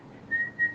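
A person whistles two short, clear tones close by, each held briefly with a small gap between, over a quiet room background.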